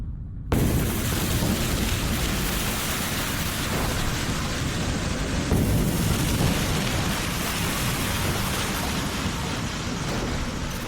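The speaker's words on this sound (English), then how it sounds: "Using Willets' model, we have reconstructed the Krakatoa 535 AD Big Bang." Reconstruction of the Krakatoa volcanic eruption of 535 AD: a continuous, loud, dense roar of explosive rumble that starts abruptly and holds steady throughout, with no voices.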